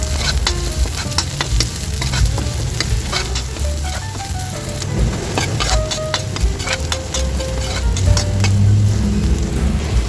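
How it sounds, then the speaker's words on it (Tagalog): Garlic and onion sauté in a pan for a simple Filipino spaghetti sauce, making a loud, dense, continuous sizzle close by with sharp ticking spatters and stirring scrapes throughout, no talk. "mag-start na tayong magigisa para sa ating sauce. Ilagay na natin guys yung ating bawang. Isunod na natin na guys yung ating sibuyas."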